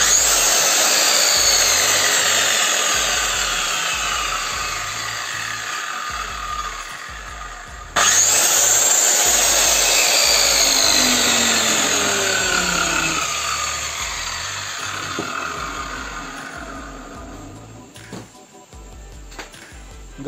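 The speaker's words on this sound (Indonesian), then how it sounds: "sedangkan untuk circle saya yang lama suaranya" An old, well-used Stanley circular saw running close and loud, its whine winding down, restarting sharply, then slowly spinning down again with a low rumble beneath, with no talk.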